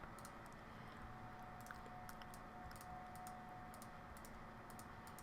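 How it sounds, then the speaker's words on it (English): Faint, scattered clicks from a computer mouse or keyboard tap irregularly over a low, steady room hum. "You can probably hear me clicking away."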